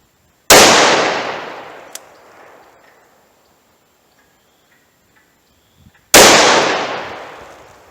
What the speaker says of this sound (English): I'll try a few rounds of single action at that piece of tape.